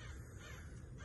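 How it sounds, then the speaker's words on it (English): Crows cawing outdoors, a faint, brief rasping caw over quiet low background noise, with no speech. "Birds."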